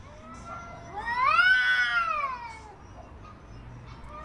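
A cat lets out one drawn-out, rising and falling meow-caterwaul lasting about a second and a half, close and clear over faint background noise.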